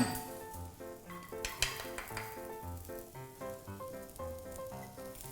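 Mushrooms and garlic fry in oil in a wok for a stir-fried noodle dish, a steady close sizzle with scraping stirs, layered over tonal background music.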